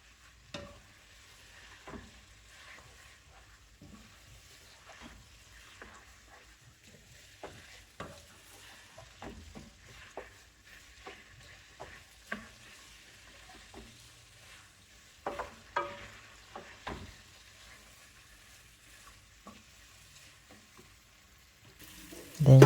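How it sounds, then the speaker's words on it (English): Vegetarian rice with spices and a pre-cooked base frying in a pot while a spoon stirs and scrapes it, heard as soft, close sizzling with irregular clinks and scrapes and a sharper knock at the end. "I try to incorporate everything and fry it so that the spices as well as the base that had been cooking prior can be incorporated into the rice"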